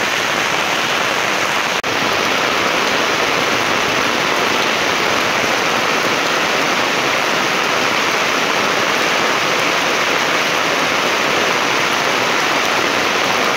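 Flood water rushes steadily during heavy rain, a dense, loud, unbroken roar of flowing water and downpour that stays constant throughout with no voices.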